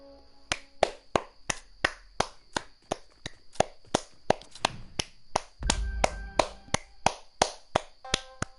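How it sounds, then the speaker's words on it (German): Steady, rhythmic hand clapping, sharp claps roughly three per second, sounding like a small group applauding at close range. "Applaus."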